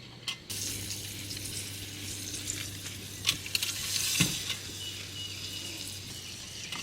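Shrimp cook in an Arctic Canteen Cup for shrimp and grits, giving a steady close sizzle over a low camp-stove hum, with a few louder pops and scrapes partway through.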